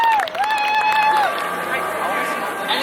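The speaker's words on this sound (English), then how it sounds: "So everyone give Jen a big round of applause" An audience at a Halloween Haunt show applauds and cheers, a steady wash of clapping and crowd noise running under voices and a high whistling tone throughout.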